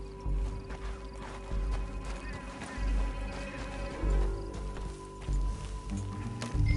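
A horse gallops in the video game Red Dead Redemption II, heavy rhythmic hoofbeats pounding close and steady over outdoor ambience, with occasional rattles and scattered effects.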